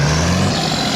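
Earth-hauling lorries rumble past at a road bridge construction site, a loud, close diesel engine drone with a brief hiss of air brakes, lasting about a second.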